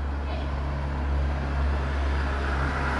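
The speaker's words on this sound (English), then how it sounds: "looking at the noisy cars" Steady, fairly quiet road traffic hum from cars passing outside an open window, a continuous wash of noise with no talk.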